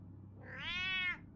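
A cat in the video game Batman: The Telltale Series gives a single rising, drawn-out meow, clear and close over a low background hum.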